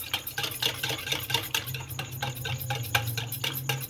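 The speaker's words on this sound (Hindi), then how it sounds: "मैदा थोड़ा थोड़ा करके शामिल करें और अच्छी तरह से फेंटते रहें।" A whisk beats pancake batter in a bowl as flour is added bit by bit, producing a continuous fast rattling clatter against the bowl with a low background hum.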